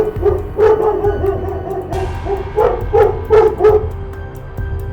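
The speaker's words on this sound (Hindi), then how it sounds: "तभी मुखिया का कुत्ता शोर मचा देता है।" A village headman's dog barks at night at thieves, a run of sharp repeated barks and yips in uneven bursts, fairly close and loud over a low background hum.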